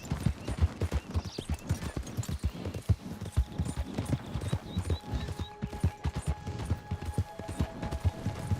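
A horse gallops in Red Dead Redemption II, with dense, rhythmic hoof beats pounding steadily and close up, and faint mechanical tones in the background.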